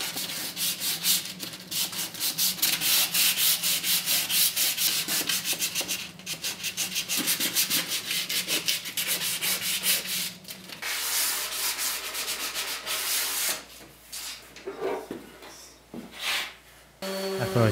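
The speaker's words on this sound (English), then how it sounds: "I went back to my orbital sander and started sanding down the top surfaces and in between each pocket" An orbital sander buzzes against wood in steady passes, its tone shifting as it moves across the surface, close and loud throughout.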